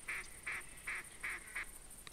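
Duck call used in The Hunter video game, set in a bayou: five evenly spaced, nasal quacks in quick succession, fairly faint over steady outdoor ambience.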